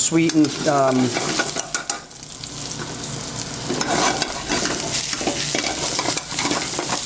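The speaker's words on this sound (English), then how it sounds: "Apple's going to saute up nice and quick" Apples sauté in a hot pan with parsley and salt, sizzling loudly and steadily up close while utensils stir and scrape against the pan.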